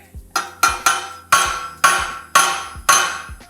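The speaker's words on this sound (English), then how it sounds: "I didn't hammer it on that hard." Seven sharp hammer strikes ring out close by in an uneven rhythm on a sword handle tang, each a crisp metallic bang with a short decaying ring.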